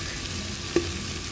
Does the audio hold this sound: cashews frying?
yes